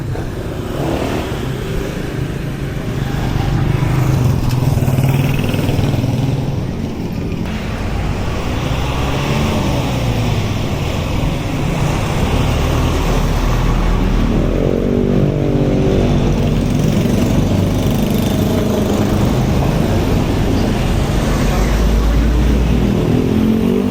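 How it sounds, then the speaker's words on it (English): Busy road traffic on MacArthur Highway in Angeles City, with a steady, loud roar of passing cars and motorcycles, engines revving and accelerating close by throughout. "MacArthur Highway, busy road."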